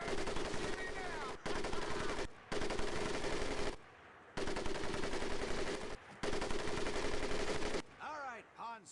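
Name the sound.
machine gun firing in video game Medal of Honor Pacific Assault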